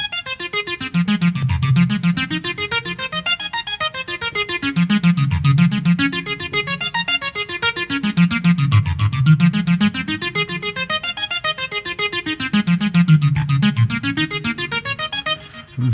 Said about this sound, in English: Apply the arpeggiator and use any of the 128 presets or your own.